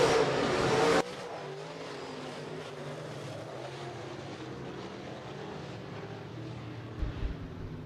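B-Modified dirt track race cars roar at Rapid Speedway, opening with a loud close engine blast that quickly falls back to a steady, more distant droning of several cars circling the track.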